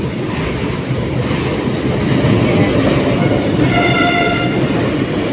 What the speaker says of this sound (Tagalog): Dito po tayo sa may Central LRT1.